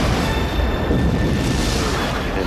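The body of the starship Enterprise exploding as a Star Trek film effect, a loud, sustained rumbling roar of continuous low booms and debris noise filling the whole stretch without pause.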